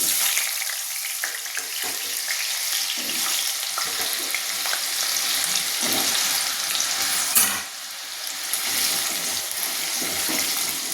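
Cut potatoes frying in hot oil with dried red chillies and cinnamon, a steady close sizzle that runs the whole time, with brief stirring and clatter over it.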